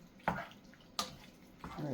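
Water added to a pot of beef and cabbage casserole: three short bursts of pouring and splashing, the last swelling into a steady flowing pour, close by.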